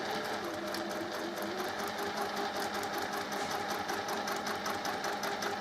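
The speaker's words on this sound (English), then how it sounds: "You've got a nice guide here along the side of your fleece. Do some reverse stitches." A sewing machine runs steadily through fleece, sewing reverse stitches in a continuous, even mechanical whir with a fast rhythmic needle clatter, close and alone.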